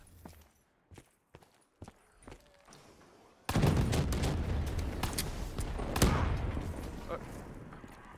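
Gunfire in Black Ops 3 custom zombies, a few sharp isolated shots at first and then a dense continuous loud barrage of firing and game noise, with players talking underneath.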